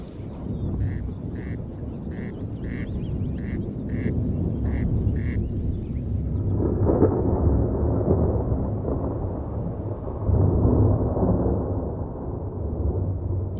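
A thunderstorm in a nature setting, with a run of rhythmic quacking calls at first, then low, broad rumbles of thunder rolling in and swelling twice before fading.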